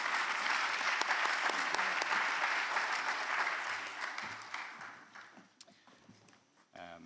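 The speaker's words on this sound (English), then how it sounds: "a round of applause for our speakers" A conference audience applauds its speakers with full, dense clapping that holds for several seconds and then thins and fades, with faint voices and movement coming through near the end.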